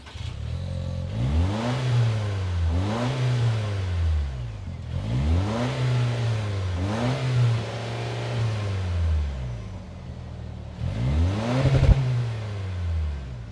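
A 2025 Toyota 4Runner SR5 engine revs repeatedly up to the rev limiter, each loud rise in pitch held and bouncing with a popping stutter before falling back, four or five pulls in a row close by.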